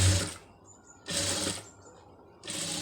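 A sewing machine stitches invisible piping into cloth in three short, close bursts of rapid mechanical whirring separated by pauses.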